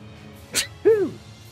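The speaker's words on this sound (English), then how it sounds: "I don't know why I was making that sound when I sneeze." A single close sneeze from a man playing a video game: a sharp breathy burst followed by an odd voiced, falling squeal-like sound as he finishes it, short and alone.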